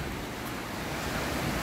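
Surf rolling onto the shore at Pagudpud beach, a steady broadband wash of waves with wind noise over the microphone, continuous and fairly loud, no voices.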